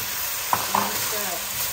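Beef and broccoli sizzling in a wok as sauce is poured in around the rim, a loud steady hiss with a couple of sharp splashy bursts near the start, close and brief, no speech.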